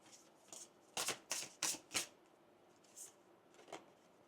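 Tarot cards riffled and drawn from a deck, a few sharp papery bursts of shuffling followed by softer single snaps as cards are pulled, close and fairly quiet with no talking.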